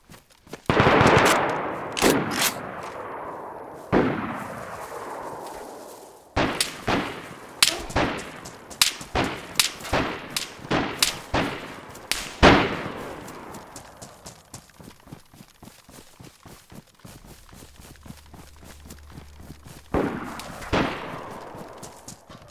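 Gunfire in the DayZ video game, with sharp cracks coming singly and in rapid bursts that echo and fade, then sparser shots further off, some faint voices underneath.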